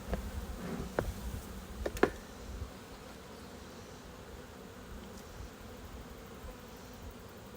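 Honey bees buzz faintly and steadily during a hive inspection, a low diffuse drone with a few sharp knocks and clicks in the first seconds, no voices.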